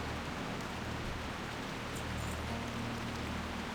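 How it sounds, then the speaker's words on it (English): Rain falls in World of Warcraft TBC Classic amid foggy weather, a faint, steady, even hiss of downpour filling the background without pause or voices. "it's a mixture of fog and rain that's going on here."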